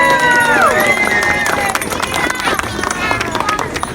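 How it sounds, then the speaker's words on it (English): Outdoor crowd in a Christmas village clapping and cheering as Santa and Mrs. Claus arrive, loud dense applause with shouts and a whoop, voices talking over it. "let's give a big round of applause for Santa and Mrs. Claus."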